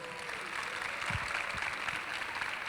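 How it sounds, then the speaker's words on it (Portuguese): A conference audience in a stadium-style venue gives moderate applause to welcome the speaker Ollie Bray, fairly distant and soft, with a few louder claps standing out. "por favor, com uma salva de palmas, vocês podem receber o Oli Bray para o estádio?"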